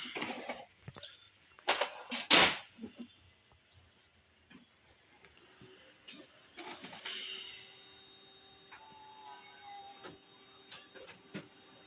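A Kyocera copier machine powers up, giving a series of sharp mechanical clicks and clunks followed by quieter whirring and faint tonal hums as its internals start.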